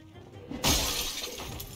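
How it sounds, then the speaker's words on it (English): A glass window shatters as a zombie is smashed through it in the Project Zomboid video game, one sudden loud crash followed by tinkling debris that fades over a second. "My newest move is smashing zombies through windows."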